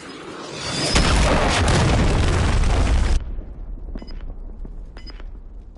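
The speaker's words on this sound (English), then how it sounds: "Hostiles launched a cruise missile." A cruise missile explodes in Call of Duty MW3, a huge roaring blast building for about two seconds before cutting off abruptly, leaving low rumble and faint distant pops.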